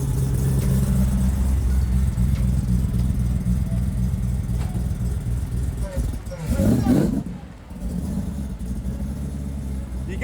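A Dodge Demon truck engine runs steadily at a loud, even drone, then briefly surges and dips as the vehicle drives off, with people talking over it.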